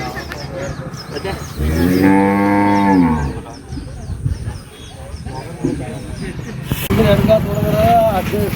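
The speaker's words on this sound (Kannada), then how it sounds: "ಎಲ್ಲ ನಮ್ಮ ಎಮ್ಮೆ ಐತ್ರಿ" Loud low moo from a water buffalo, one drawn-out call of about two seconds rising and falling, close by amid farmyard noise and people talking.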